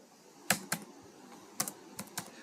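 Someone types weights into vegetable commission billing software on a computer keyboard, producing a few sharp, separate keystrokes: two close taps, a pause, then another short cluster of taps, clear and near against a quiet room.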